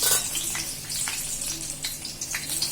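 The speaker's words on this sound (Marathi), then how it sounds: "त्याच तेलामध्ये तापलेल्या तेलामध्ये चांगलं तळून घ्यायचं" Halved green chillies and garlic crackle in hot oil, a continuous bright hiss with scattered small pops over a faint low hum.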